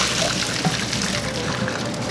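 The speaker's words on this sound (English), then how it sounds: "I put a little bit cold water on the pasta so it's cooled down a little bit." Cold water runs in a steady, fairly loud rush over cooked spaghetti in a kitchen sink, pouring continuously without any pause.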